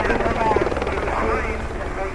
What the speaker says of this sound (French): Il y a un hélico dans le